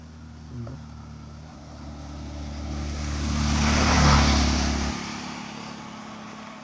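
A car engine rumbles steadily, swelling louder as it draws near and revs up around the middle, then easing off as it passes, near a waterfall in Konkan.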